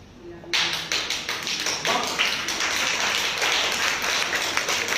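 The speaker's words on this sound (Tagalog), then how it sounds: "Lakas ang palakpak mo ah." A church congregation member clapping loudly during a Sunday service, a run of sharp, fast, close claps that starts abruptly and continues steadily to the end, with faint other sounds beneath.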